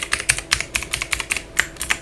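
Fingers tapping out a password on a computer keyboard during a firewall install in a lab setup, a quick irregular run of crisp, close keystrokes with brief pauses between them.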